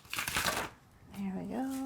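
Backing peeled off a cut paper piece from a gift bag kit gives a brief close crinkling, tearing rustle at the start, followed by someone talking.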